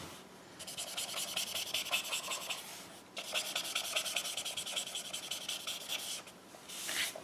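A blender pen rubs ink across a card in repeated close, scratchy strokes, with two brief pauses between passes.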